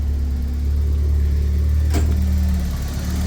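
Engine of a converted camper van idling steadily at close range, a constant low hum with one brief sharp noise near the middle and no talk over it.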